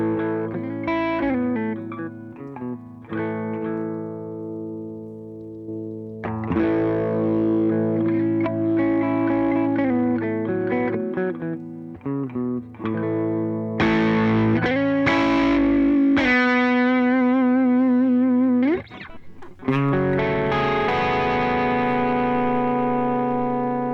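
Electric guitar played through the deluxe compressor on a Line 6 HX Stomp in an ambient patch, with sustained chords and melodic lines ringing on with shimmering, effects-laden tails, loud and steady throughout without talk.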